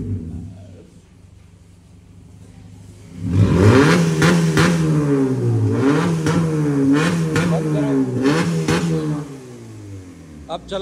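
A Honda Civic fitted with a cutout exhaust valve revs hard several times, loud and close, with rising and falling engine pitch after a quieter stretch of idle and some voices.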